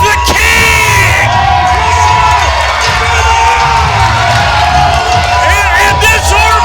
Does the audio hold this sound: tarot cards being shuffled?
no